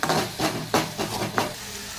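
Aloo paratha potato filling with salt is stirred in a pan, with four rhythmic scraping strokes over a soft sizzle, close and clear, no voices.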